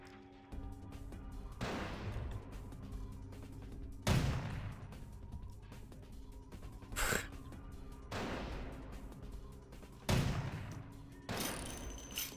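Gunfire in Vampire: The Masquerade - Bloodlines cracks out in about five separate loud shots spaced a few seconds apart, each with a short echoing tail over a quiet, low ambient hum.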